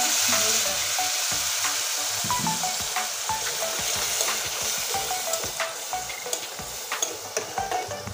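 Ground spices, coriander powder and chili powder, frying in a pan with a little water, giving a steady loud sizzle broken by scattered crackles and the scrape of stirring.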